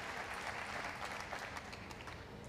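Dense, steady applause from a large crowd at an evening youth choir commemoration concert, continuous and fairly loud throughout, with faint shouts mixed in.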